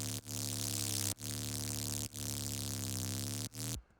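A big, nasty saw-wave fuzz synth layer made in Ableton Operator plays sustained buzzy notes broken by short gaps, loud and on its own.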